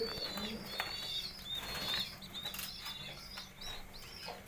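Kashk Bunaydi pigeons feeding their squabs, with soft cooing, chirps and a few wing flaps heard up close over a steady background hum.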